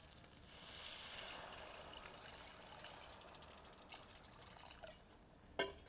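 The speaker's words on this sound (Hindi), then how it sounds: "इसमें आधा लीटर के लगभग पानी सम्मिलित करते हैं" Roughly half a litre of water pours steadily into a pan of fried masala for egg curry, a soft continuous gush that swells early and fades, ending with a short clink near the end; no one talks.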